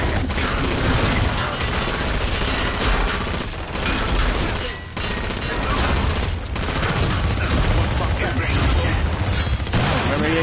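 Dense video-game gunfire rattles almost without pause, with bursts of automatic shots, booms and mechanical clatter, loud and close, while players talk over it.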